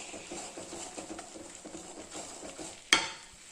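Gongura pickle is stirred with spice powder in a pan, giving soft rhythmic scraping and squelching stir strokes over a light sizzle, ending in a sudden sharp clank of metal near the end.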